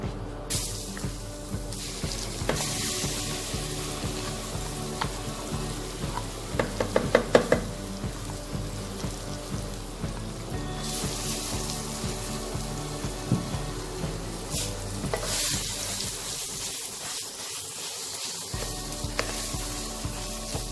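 Urad dal paste for Bengali kachori sizzles in a pan as it is stirred, making a continuous crackle with a cluster of spoon clinks partway through and a short quieter dip near the end.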